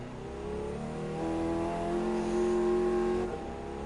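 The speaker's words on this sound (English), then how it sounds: "Going up on the third gear" A race car engine climbs in pitch as it accelerates in Gran Turismo 7 during a European race tour, with a smooth, loud, rising whine that holds steady before easing off near the end.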